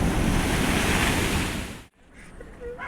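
Sea waves surging against a tetrapod sea wall along a coastal walkway, a loud, close roar of surf with wind buffeting that drops away sharply near the end, leaving quieter background noise and a faint voice.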